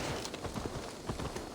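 Horse hooves clip-clopping in Assassin's Creed Valhalla, a steady run of close hoof strikes at a walking rhythm over a dense game ambience, with no talk.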